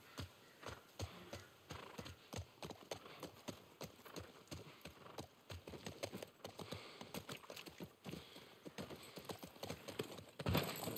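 Horse hooves clip-clop in a steady trotting rhythm in The Last of Us Part 1, close and continuous throughout, with a brief louder knock near the end.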